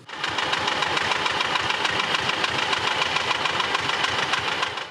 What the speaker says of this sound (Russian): Этот старичок, хотя с виду и вполне бодрый, СТЗ-1530 Сталинградского тракторного завода 1930 года выпуска.